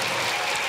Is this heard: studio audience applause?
yes